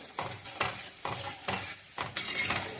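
Egg masala sizzling in a pan as dry chili powder goes in and a utensil stirs it in repeated scraping strokes about every half second, close and steady, with no talking.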